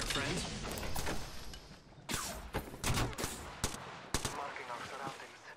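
Gunfire in the video game Apex Legends, with sharp bursts and single loud shots punctuating a noisy firefight, some closer and louder than others, mixed with mechanical clatter and a voice speaking over parts of it.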